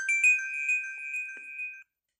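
An iOS ringtone from a jailbreak tweak plays alone for about two seconds, a bright electronic melody of sustained chiming tones that stops abruptly.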